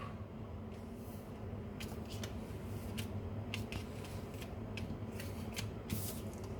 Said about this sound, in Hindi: Let me arrange the cards.